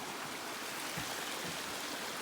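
Waterfall and flowing stream on a walking trail, heard as a steady, full broadband rush of water that stays constant and close throughout, with no voices.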